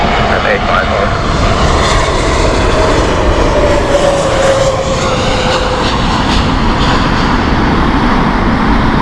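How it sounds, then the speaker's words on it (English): A Swiss Airbus A320 jet takes off at Heathrow Airport in the evening, a loud continuous engine roar with a faint whine sliding across, while someone talks over it. "that is a Swiss Airbus A320 just taken off there"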